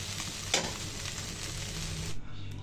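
Okra (bhindi) frying in a pan gives a close, steady sizzle broken by the scrape of a stirring spatula, with one sharper clink partway through and a short dip near the end.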